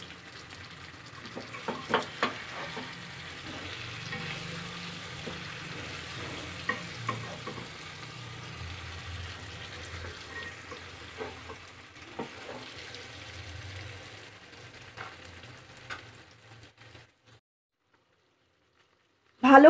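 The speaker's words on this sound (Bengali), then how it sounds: "তো বেশ কিছুক্ষণ ধরে আমি মশলাটাকে কষাচ্ছি" A spice paste with sour yogurt, made without onion or garlic for an aloo dum, sizzles softly in a pan, with scraping stirs repeating throughout. The sizzle fades to silence near the end.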